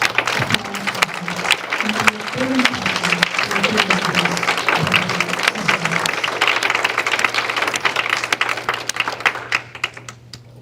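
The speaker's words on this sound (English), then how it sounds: "let us give a big round of applause" An audience at a Guru Purnima celebration applauds, a dense and sustained round of clapping that fades near the end, with a low hum underneath.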